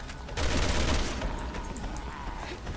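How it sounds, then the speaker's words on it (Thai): Sustained automatic gunfire from a machine gun in the video game Resident Evil 6, a dense rattling burst that starts abruptly, stays loud and then tapers slightly under continuous noise, with no clear speech. "กระสุนปืนกล"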